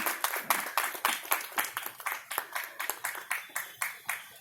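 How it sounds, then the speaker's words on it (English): A small audience at a morning session of a talks event claps steadily, a dense, even patter of hands with no cheering or voices, close and moderately loud throughout. "inviting a loud cheer from the audience as well"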